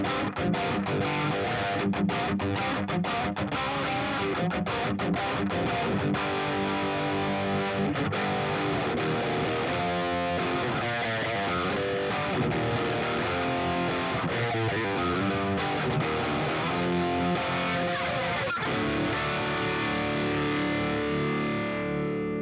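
Heavily distorted metal electric guitar through the Archetype Plini plugin with a surgical drive tone, dense chugging riffs and sustained chords played continuously and loud, with no talking.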